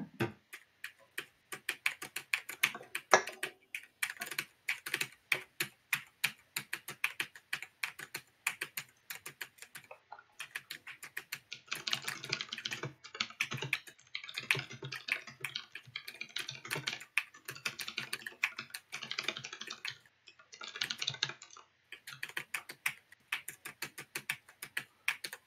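Computer keyboard typing, close and steady, with fast irregular keystrokes running throughout and a denser burst of clacking in the middle stretch; no one speaks.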